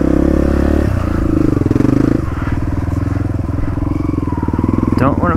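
Dirt bike pushing through a creek, its engine chugging loudly and close with a rhythmic pulsing thrum, throttle rising and falling amid clatter and scrapes, a voice talking over the engine.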